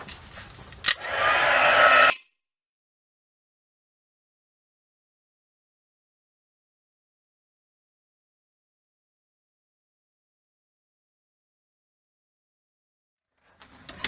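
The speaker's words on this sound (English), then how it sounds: "And so I'm going to use my heat gun." A heat gun blows loudly for about two seconds while drying a stamped card, then cuts off. Long silence follows, with a faint return near the end.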